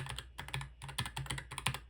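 Fast, close clicking of keys on a laptop keyboard, an irregular patter of crisp taps heard alone with no voices.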